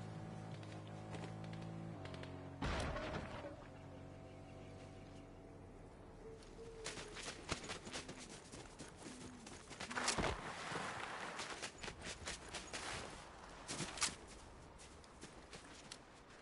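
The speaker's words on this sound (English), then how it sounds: "People running." Quick footsteps patter in Fortnite as people run, a light rhythmic tapping over a steady musical tone with a few sharper knocks.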